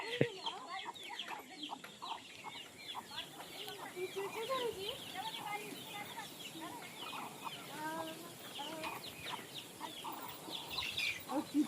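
Hens clucking steadily in a farmyard, a dense run of close overlapping clucks and calls, with a faint crow among them, over light background noise with a voice now and then.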